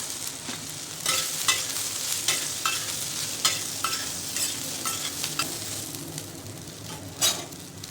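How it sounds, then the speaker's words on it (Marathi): Chopped okra sizzles steadily in a hot pan with turmeric while a spoon stirs it, making repeated scraping strokes over the continuous frying hiss. "आणि आता टाकायची आपली कापून घेतलेली भेंडी"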